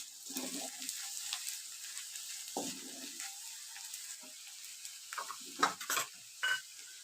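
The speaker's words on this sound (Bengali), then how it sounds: "ড্রাই মশলাগুলো এইভাবে ভালো করে কষিয়ে নিতে হবে।" Dry ground spices (coriander, red chilli and Kashmiri chilli powder) fry in a pan for ghugni while being stirred, giving a soft steady sizzle with several short scraping stirs, the last ones louder, and no talk.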